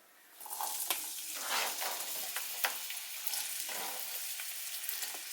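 Vegetables for a vegan chickpea salad dropped into hot oil, bursting into a loud, steady sizzle with crackling bursts and occasional stirring scrapes, close up and without talk.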